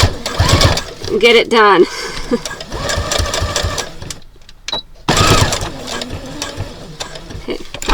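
A sewing machine stitches a 1/8-inch seam on a card wallet, its motor buzzing in close bursts that stop and restart, with a person talking over and between the runs.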